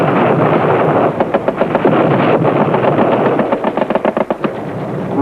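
Machine guns lay down suppressive fire in sustained, rapid rattling bursts, loud and continuous, with the rhythm of individual shots breaking out toward the end.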